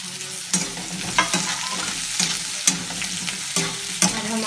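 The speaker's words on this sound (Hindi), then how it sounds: "और हम आलू को फ्राई कर लेंगे अच्छी तरह से।" Cut potatoes fry in a pan for an aloo palak dish, a loud, close hiss punctuated by regular clanks of a spatula stirring roughly every second.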